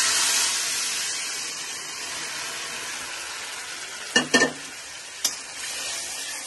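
Dal with turmeric powder stirred in a pot over heat, giving a soft steady sizzle and hiss with a few brief scraping knocks of the spoon near the end, nobody speaking.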